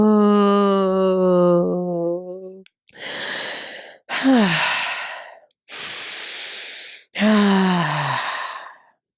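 Deep breathing for labour, demonstrated by a single voice: a sustained hummed tone, then four loud, close breaths. Long airy inhales alternate with exhales, some of which slide down into voiced sighs.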